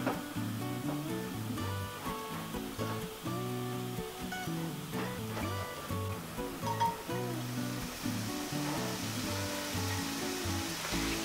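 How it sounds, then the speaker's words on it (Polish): Diced smoked country bacon renders in a pan with a steady, close frying sizzle that runs throughout, with a musical backing underneath. "Boczek się wytapia"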